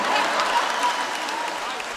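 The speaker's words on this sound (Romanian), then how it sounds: "În aplauzele tuturor, aplauze de care n-a mai văzut sala Palatului Național." Dense, sustained applause from a large audience in the concert hall of the National Palace at a Romanian folk music gala, staying loud and easing off slightly toward the end.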